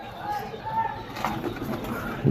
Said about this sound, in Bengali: এই জোড়া হচ্ছে আপনার পাকিস্তানি টেডি কবুতর